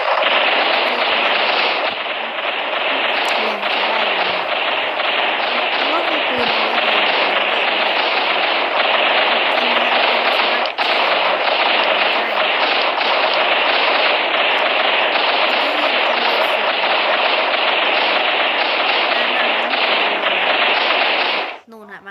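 Machine gun firing in the video game Survival Craft, a dense, loud, continuous burst that runs for over twenty seconds at steady level before cutting off abruptly at the end.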